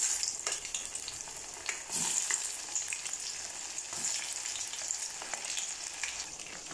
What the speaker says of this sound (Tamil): இப்போ இதல மீல் மேக்கரை சேர்த்து பொரிச்சு எடுத்துறலாம்